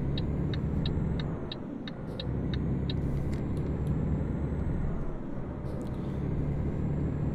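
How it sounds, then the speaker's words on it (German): Truck engine in Euro Truck Simulator 2, a low continuous rumble with rhythmic ticking clicks in the high range, steady and moderately loud with no talk. "Der LKW hört sich aber auf jeden Fall auch keinen Zentimeter mehr gesund an."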